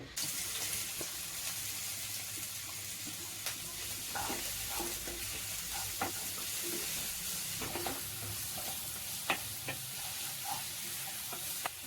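Onion, tomato, green chilli and cabbage are stir-fried together in a pan, with a continuous soft sizzle, a low background hum and scattered stirring scrapes and clinks, at a moderate distance.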